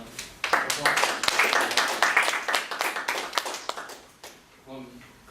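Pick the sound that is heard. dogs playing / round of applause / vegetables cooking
round of applause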